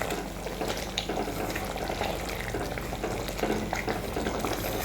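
A utensil scrapes and stirs through a thick, sizzling appalam gravy in a pan, with steady bubbling and cooking noise throughout and no voices.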